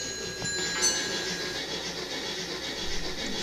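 An N gauge model train pulling Stanier coaches rolls up an inclined curved track, a steady close rumble and clatter of small wheels with faint squeals near the start.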